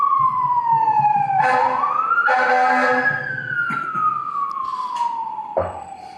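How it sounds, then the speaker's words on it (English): A loud wailing siren sweeps up and down close by, with the rumble of road traffic underneath and a sharp clunk near the end. "Sounds like this court is in like a carport next to the road."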